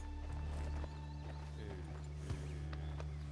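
A restless horse in the Red Dead Online video game snorts and shifts its hooves with a few soft clops, set against a steady low game hum and faint background tones.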